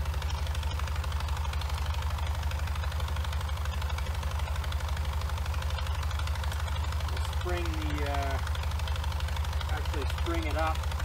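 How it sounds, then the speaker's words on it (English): A horizontal Leonard steam engine from about 1880 to 1910, fitted with a 1-inch Pickering governor, runs with a steady rapid thumping beat close by, while someone speaks briefly near the end. "I'm going to try out this horizontal Leonard engine from sometime between 1880 and 1910 range"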